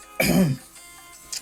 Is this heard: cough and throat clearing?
yes